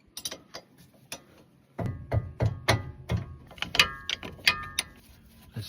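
A number 14 spanner works a brake caliper bolt on a Japanese K-car, giving a series of sharp metallic ratcheting clicks and clunks in an irregular rhythm, close and fairly quiet, with no talking.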